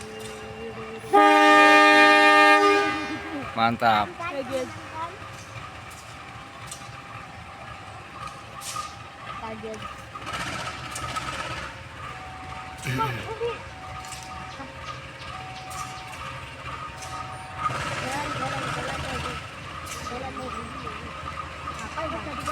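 A loud train horn blasts, then the Penataran commuter train rumbles and clatters as it pulls away from Ngadiluwih station in Indonesia, with a few people talking briefly nearby.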